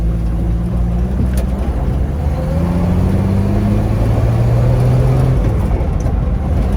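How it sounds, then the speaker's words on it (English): A Ford 300 inline six-cylinder with a Holley four-barrel carburetor revs up steadily as it accelerates, a loud, sustained engine drone with rising pitch, no voices present. "I have a Holley 4-barrel carb I put on this 300. So yeah, it's pretty fast."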